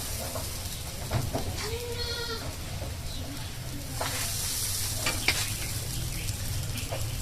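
Chitoi pitha batter meets a hot clay pan with a steady, fairly loud hiss of sizzling close by. A brief goat-like bleat sounds faintly in the background partway through.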